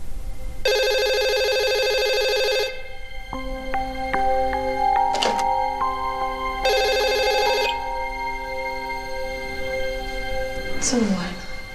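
A telephone rings at night in a home: two loud, close bursts of a repeating electronic ring with a melodic ringtone phrase between them, ending with a brief rising sound.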